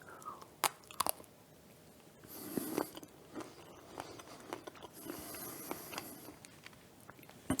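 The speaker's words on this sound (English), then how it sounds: "The crisp snap of the chocolate is a perfect counterpoint to the chewy jelly" Crunchy bites into a crisp dark chocolate raspberry jelly stick, a few sharp snaps followed by quiet, close chewing and scattered crunches, with no talking.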